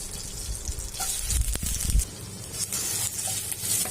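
Onions sizzling in hot oil and a little butter in a pan, a steady crackling hiss throughout with a few soft stirring bumps near the middle.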